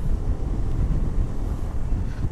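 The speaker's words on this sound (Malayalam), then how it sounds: "നല്ല കാറ്റുണ്ട്" Strong wind on a mountain road to Meghamala, a loud, continuous low roar buffeting the microphone without pause, no voices heard.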